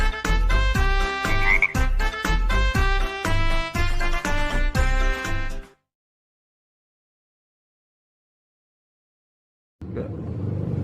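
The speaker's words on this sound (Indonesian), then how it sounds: "Bagaimana gerakan katak berjalan? Lihat video berikut ini." Frogs croak in a loud, dense, rhythmic chorus of repeated calls for several seconds, then silence, then low rumbling noise returns at the end.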